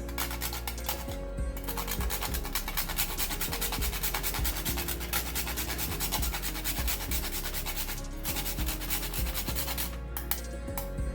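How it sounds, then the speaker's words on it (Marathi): Whole nutmeg grated for a Makar Sankranti puranpoli meal, a steady scraping rasp that runs near-continuously with short strokes and brief pauses, close and fairly loud with no talk. "आपल्याला थोडीशी जायफळ खिसून घालायचं आहे"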